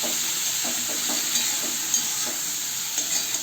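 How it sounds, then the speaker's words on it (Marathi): Peeled, cut bottle gourd sautéing with turmeric in a pan, a steady close sizzle with soft stirring scrapes at intervals. "आता इथे छान परतून घेऊया आपण दुधी भोपळा"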